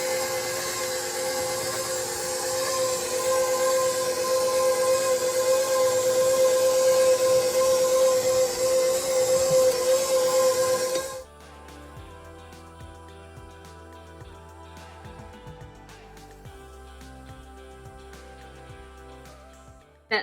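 A stand mixer with a dough hook kneads French bread dough on speed 2, giving a steady, loud motor whir with a sustained whine for about eleven seconds before it cuts off abruptly, leaving quieter, sparse sounds.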